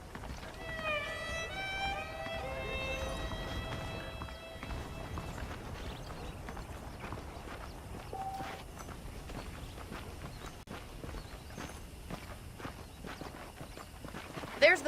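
Steady clip-clop of horse hooves walking at an even pace in Red Dead Redemption, with a brief whinny early on and low background rumble.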